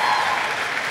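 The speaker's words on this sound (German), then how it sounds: "Dann bitte noch mal einen großen Applaus für diese 4." Audience applause at the world premiere of the second season of Maxton Hall, a dense and steady roar of many hands clapping, loud and close, filling the whole short moment without pause.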